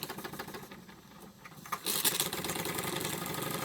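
A Wilesco D24 toy steam engine runs nearby with a fast, rhythmic chuffing that grows louder and steadier partway through, punctuated by a brief hiss of steam.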